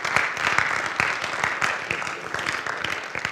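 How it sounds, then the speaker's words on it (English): A crowd applauds steadily at a football banquet, many hands clapping in a dense, continuous patter at moderate volume, with no speech over it. "Gentlemen, give them a round of applause."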